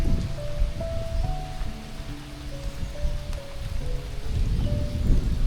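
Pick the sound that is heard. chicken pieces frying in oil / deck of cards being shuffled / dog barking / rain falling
rain falling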